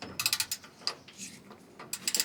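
A wrench works the adjuster bolt on a narrowboat, giving short bursts of quick, close ratcheting clicks with brief pauses between them.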